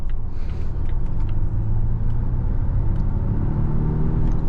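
A 2025 Volvo XC90 T8 Ultra accelerates smoothly on the road, heard from inside the cabin as a steady low rumble with faint road noise and no talk.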